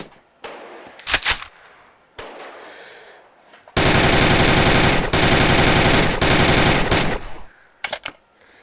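Rapid automatic gunfire in the VR shooting game Gun Club VR, starting with a few isolated shots, then a sustained loud burst of several seconds, then a couple of trailing shots.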